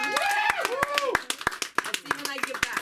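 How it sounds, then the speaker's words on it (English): Comedy club audience at a school of comedy showcase giving a short burst of applause, with sharp individual hand claps mixed under someone talking and a few other voices. "Give them a round of applause."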